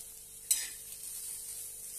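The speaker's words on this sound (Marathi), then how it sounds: "आता छानपैकी हे कांदे परतून घेऊया" Finely chopped onions sautéing on a hot iron griddle, a soft steady sizzle with one sharp scrape of a utensil early on, otherwise quiet and even.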